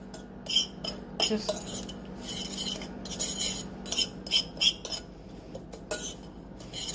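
A utensil stirs ingredients together in a bowl, giving repeated metallic scraping and clinking strokes in quick, uneven bursts, close and clear, with no talking.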